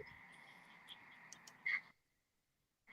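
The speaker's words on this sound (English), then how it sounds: "with the crickets and the frog out here" Frogs and crickets outdoors at night: a steady insect trill with croaking calls over it and a brief louder croak near the end, then sudden near-silence.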